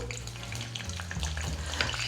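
Green chillies fry in a pan, making a soft, steady crackling sizzle with scattered pops and a few stirring sounds, quiet and close, with no one speaking.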